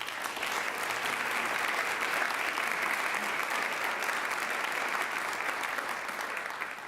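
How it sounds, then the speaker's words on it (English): Steady audience applause at a college peace oratorical contest, following the introduction of a student speaker; dense, even clapping holds at full strength for about seven seconds and tapers slightly at the end. "Let's give her a round of applause."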